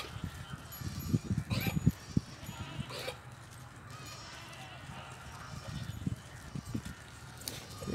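Sheep and goats bleat in several scattered calls at a goat farm, amid general outdoor livestock noise, with someone talking throughout.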